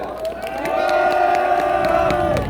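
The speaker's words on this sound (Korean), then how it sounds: "여러분 박수해 주세요" Crowd at a Republican Party presidential campaign rally outside Bujeon Station in Busan cheers and applauds, a dense roar of voices and claps with a sustained shout swelling through and fading near the end.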